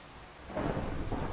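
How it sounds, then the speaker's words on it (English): Rain and rolling thunder from a video game's background ambience: a soft, steady wash of rainfall that swells into a low, rumbling thunder roll partway through, quiet and distant. "If you guys have been hearing a thing in the background, I just realized, I've got rain going on."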